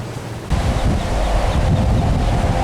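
Ocean surf on the west side of Oahu rolls in as a broad continuous wash, swelling louder after a moment, with wind buffeting the microphone.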